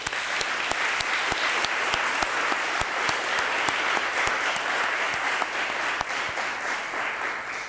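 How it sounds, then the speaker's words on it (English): A crowd claps steadily at the 2021 Kyle State of the City address. The even, sustained applause carries sharp, regularly spaced clicks and continues through the whole stretch without any voices. "I'd love for us to give them a round of applause"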